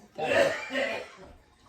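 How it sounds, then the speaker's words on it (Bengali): A man coughing nearby indoors, two harsh bursts in quick succession followed by a fading breathy tail. "আমার জামাই কাশতে আছে"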